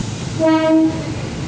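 A KRL commuter train at Universitas Indonesia station sounds a short two-part horn blast over a steady rumble of the train and station, loud and close, with no talking.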